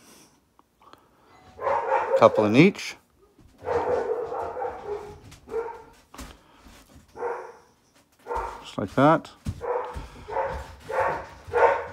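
Dog barking at someone at the front door, repeated loud barks and yips in irregular clusters with a whimper, while someone talks nearby.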